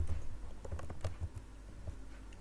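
Typing F# code on a computer keyboard, a run of soft, irregular key taps at close range over faint background hiss.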